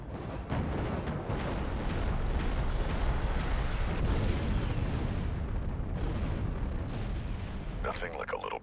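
Missiles launch and explode in the Star Wars Republic Commando video game, a sustained roaring barrage of blasts and rumbling detonations that fills nearly the whole stretch, loud and continuous, with voices faintly present beneath.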